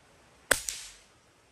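An air rifle fires pellet shots, heard as two sharp, close cracks in quick succession, each with a brief tail, against a quiet background.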